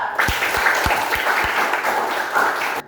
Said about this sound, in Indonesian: Tepuk tangan buat Viva